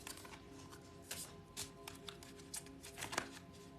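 Tarot cards being shuffled by hand, a run of soft crisp riffling bursts and flicks at close range, quiet and irregular, with steady low room hum beneath.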